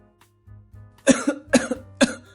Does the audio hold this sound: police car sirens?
no